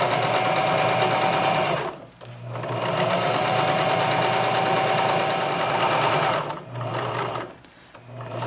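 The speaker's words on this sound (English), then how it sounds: "I'm sewing just a single layer. I'm going to go all the way around until I get back to the beginning of the fly." Steady whirring of a sewing machine running close along a single layer of a boxer shorts waistband, with brief slowdowns and dips in the stitching rhythm.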